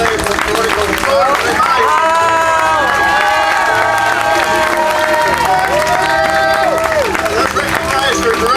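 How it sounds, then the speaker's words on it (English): A large outdoor crowd claps and cheers loudly for a ballet folklórico troupe at a Cinco de Mayo celebration, with whoops and shouting voices over steady dense applause that fills the whole stretch. "How about a big round of applause for Ballet"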